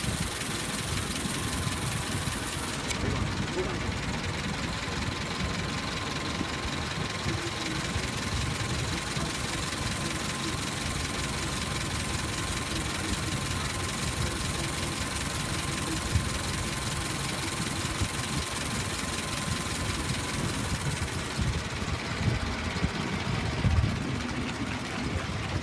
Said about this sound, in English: Dorothy, my wife, and we're driving a 16 Model T.